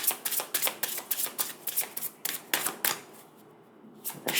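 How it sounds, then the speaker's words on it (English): A new deck of oracle cards is shuffled by hand at close range: a rapid run of crisp riffling flicks and slaps that eases off briefly before a few last taps. "shuffling is kind of weird."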